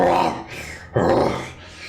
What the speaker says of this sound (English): You hear their growls.